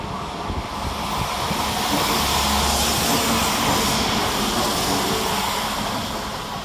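A Class 172 diesel multiple unit, 172002, runs through Birmingham Moor Street station without stopping, a loud broad rushing roar of engine and wheels that swells and holds steady.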